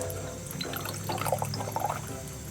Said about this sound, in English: Now I'm going to fill this floater with water.